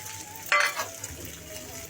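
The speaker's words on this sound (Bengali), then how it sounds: "এটা একটু ভেজে নিব।" A boiled potato fries in oil in a wok, giving a soft continuous sizzle with a couple of brief louder stirring scrapes, close and fairly quiet, with no talking.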